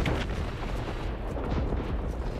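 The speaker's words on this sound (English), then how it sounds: "See, that explosion is pretty cool." A deep booming explosion rumbles in the Starship Troopers: Extermination video game during a battle against arachnids, loud and sustained with a sharp initial burst and rolling low-end aftermath.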